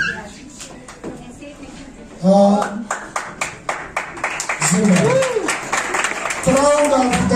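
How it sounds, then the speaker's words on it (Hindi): An audience at a New Year night celebration in Quetta, Balochistan bursts into clapping for a doctor's role-play performance, with hand claps rising and mixing with voices and cheering. "इसके लिए तालियां"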